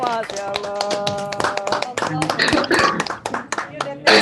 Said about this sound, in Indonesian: Berikan tepuk tangan yang paling meriah untuk kita semua.